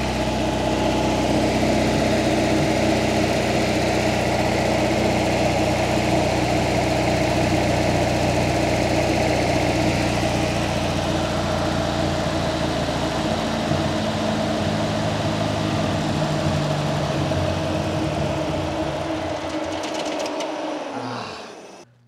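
A BEAMS-swapped Toyota 3SGE with individual throttle bodies holds a steady, close idle during synchronization, then sags near the end and stalls into silence.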